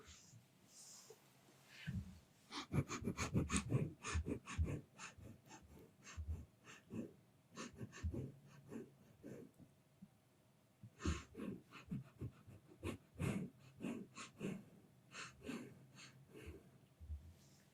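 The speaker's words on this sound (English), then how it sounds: "that's definitely a much better sniff we have going on right now" Close, breathy sniffing in irregular bursts, soft and near, a role-played cat girl sniffing closely at the listener in an intimate setting.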